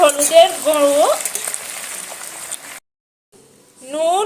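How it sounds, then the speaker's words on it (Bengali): Spinach and flat beans sautéing with turmeric and green chilies, a loud close hiss of frying under a voice, briefly cut off before talk resumes. "হলুদের গুঁড়ো আর কাঁচা লঙ্কা দিয়ে পালং শাক আর শিমটা আমি এখানে সুন্দর করে কষিয়ে নেব"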